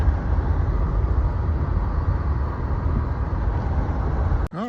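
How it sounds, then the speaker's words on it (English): Continuous broadband roar of distant highway traffic fills the background at a quiet rural memorial site, steady throughout with no distinct passing vehicles, ending in a brief close handling bump. "You can hear the highway in the background there"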